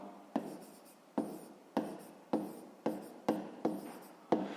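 A pen writes numbers on paper in a school maths exercise, with about eight crisp, evenly spaced strokes, each a sharp scratch fading quickly, heard close and quiet.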